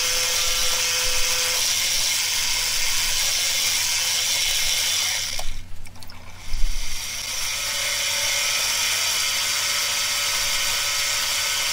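A steady high-pitched whine of a machine drilling a hole in tool steel runs throughout, briefly interrupted by a grinding, shifting burst in the middle before the drone resumes.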